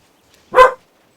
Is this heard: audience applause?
no